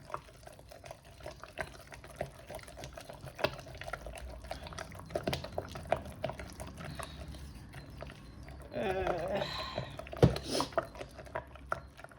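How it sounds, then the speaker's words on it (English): Body butter ingredients stirred in a beaker, with soft scraping, clinking and wet sloshing that come in irregular bursts, mostly faint and growing busier toward the end. "stir this in gradually. It's a bit tricky with this beaker."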